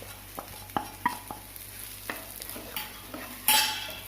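Shallots fried with chili and turmeric powder in a pan for an anchovy fish curry, a spoon scraping and stirring in sharp, irregular clicks over a soft sizzle, close and alone, with a louder burst of sizzling near the end.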